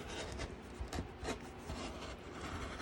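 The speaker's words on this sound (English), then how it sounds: "I like using, for these big long cuts, my roto cutter" Rotary cutter slicing fabric in long cuts, faint close scraping and rubbing strokes with a few sharper swipes, quiet and without speech.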